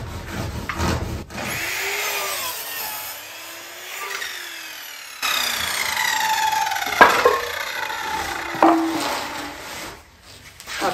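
Power saw cutting a wooden beam to length in a garage being insulated, a steady whining cut with rising and falling pitch, then a harsher rasping stretch near the end.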